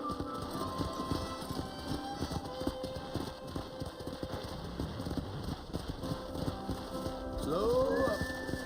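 Steady clip-clop of horse hooves in Red Dead Redemption on a ranch road, a rhythmic trot under low music, ending with a short whinny near the close.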